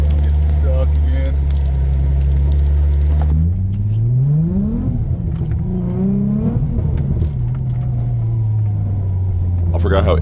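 A Nissan G35 coupe with its VQ engine rumbles close by, idling low and then revving up and easing off twice as it creeps into a shop, the engine note steady and loud throughout.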